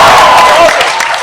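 A convention panel audience at Calgary Expo 2014 cheers and claps in a big hall, a loud, brief swell of crowd noise with voices mixed in.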